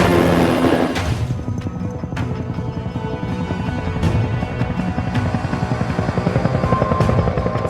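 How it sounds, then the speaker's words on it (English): A Westpac rescue helicopter hovers during a winch rescue of an injured trail bike rider on a dirt road, its rotor a loud, close and continuous chop that fills the whole stretch with no talk. "trail bike rider Rowan lies on a dirt road waiting to be winched up to the Westpac rescue helicopter."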